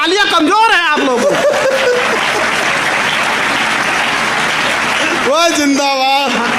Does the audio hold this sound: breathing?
no